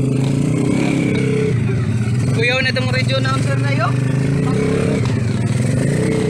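Several trail motorcycles rumble and rev nearby on a rural ride in Ligaya, Mabuhay, Zamboanga del Sur, their steady engine drone continuous beneath people talking.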